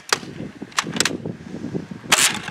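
An X-Shot Royale toy blaster fires a few quick, sharp snapping shots at irregular intervals, with low rustling and handling noise between them and one louder burst near the end.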